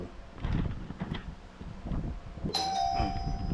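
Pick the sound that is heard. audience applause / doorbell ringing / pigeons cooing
doorbell ringing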